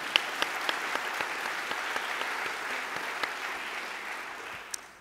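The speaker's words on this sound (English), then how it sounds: "Hold on, you got to clap, right?" Steady applause from a forum audience fills the room, a dense, even wash of many hands clapping at moderate distance with a few sharper claps standing out, tapering slightly at the end.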